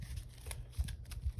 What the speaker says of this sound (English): We draw these 3 cards, shuffle these up.